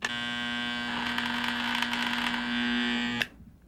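An electromagnet shaver motor on 60-cycle alternating current gives a steady buzzing hum with a sprung metal piece vibrating, holding for about three seconds before cutting off abruptly.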